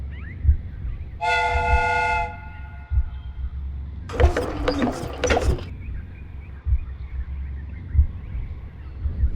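A steam train whistle in a Sherlock Holmes game sounds one sustained harmonic blast of about a second, followed by a hissing burst of steam, all over a low rumbling background.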